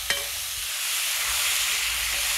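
Tomatoes sauté in a hot pan for sambar, giving a steady close sizzle throughout, with a quick clink of a stirring spoon at the start.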